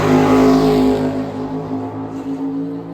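A Fiat Uno Turbo racing a big American car at a drag event, loud engine roar starting strong, then easing and fading as the cars pull away, with no talk.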